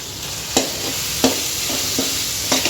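Tomato, carrot and capsicum sizzle steadily in a pan for pasta while a spoon stirs them, with a few sharp scraping clacks against the pan over the constant frying hiss.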